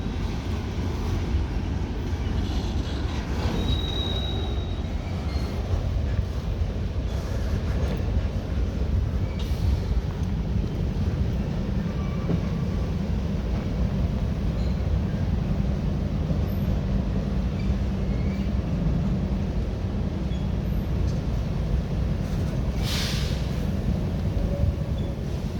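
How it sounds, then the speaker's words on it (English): A long CSX freight train rolls slowly into the yard at Cumberland, Maryland, a continuous low rumble of wheels and cars with faint high squeals now and then, steady throughout. "See the end of the train approaching on the other side of the bridge."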